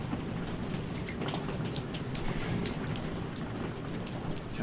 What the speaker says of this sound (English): God, it's raining so hard out.